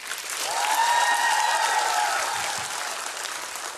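Audience applause at a Lviv stage comedy show, a steady crowd clapping swelling early then slowly fading, with faint whistle-like tones over the top.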